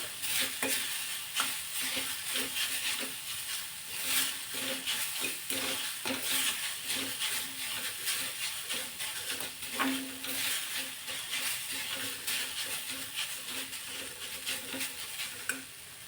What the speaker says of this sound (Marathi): आता एक अर्ध्या मिनिटासाठी आपण परतून घेणार आहोत